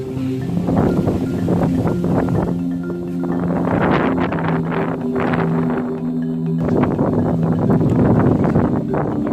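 Strong, steady wind buffets the microphone on an open hilltop at Vilangankunnu near Thrissur, roaring continuously with gusty surges throughout and no voices.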